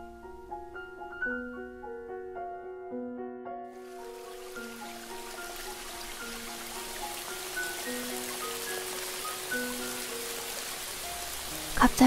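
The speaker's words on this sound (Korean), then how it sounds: "갑자기 빗방울이 몇 줄이 보이더니 비가 내리기 시작합니다" Rain begins falling in a forest, a soft hiss rising suddenly after a few seconds of calm piano notes and swelling into a steady wash beneath the continuing music.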